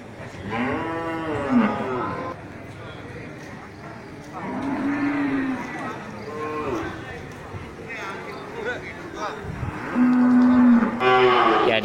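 Cattle low repeatedly at the Grogol livestock market, several long, loud moos from nearby animals over a busy background of crowd noise and people talking.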